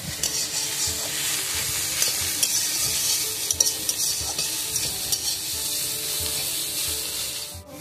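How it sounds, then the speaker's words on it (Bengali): Figs being sautéed in mustard oil in a pan, with steady sizzling and repeated scraping strokes of a spatula stirring close by, continuing without a break. "আবার একটু ভালো করে কষিয়ে নেব।"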